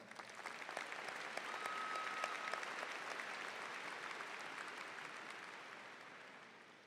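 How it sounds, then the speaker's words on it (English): Steady applause from a large audience fills a 2019 commencement ceremony, a dense, even clapping that holds for several seconds before slowly tapering, heard at moderate distance. "Let's please give them another round of applause."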